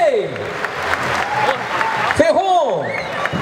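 A crowd claps for a football club's squad presentation at a team celebration, a fairly close, dense patter of applause. A voice talks over it, with sharp whistle-like sweeps cutting through.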